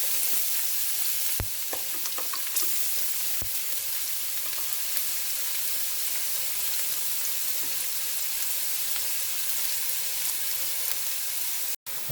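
Onions frying in a pan for a Goan pork belly stew, a steady, dense sizzle lasting throughout with a few sharp clicks and stirring knocks, close and fairly loud.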